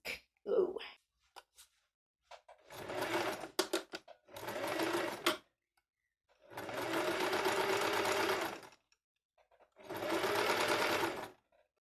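A domestic sewing machine runs a straight stitch, joining a gathered fabric piece to the front bottom panel of a summer dress; four loud, close bursts of steady stitching, separated by pauses with brief handling noises.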